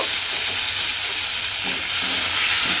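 Chopped small tomato stirred and fried in a pan while cooking an egg dish: a continuous loud sizzle and hiss with faint scraping stir strokes, no talk.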